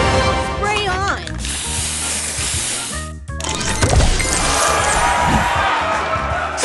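Spray booster effect in a color-crystal tournament video game, a loud hissing spray burst with crashing impacts and bright chiming tones, cut by a short gap, then a second dense hissing surge.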